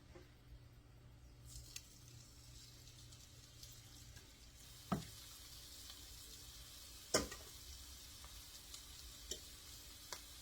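Cabbage patties fry in a pan with a soft, steady sizzle, broken by a few sharp clicks and clatters as they are shifted and turned.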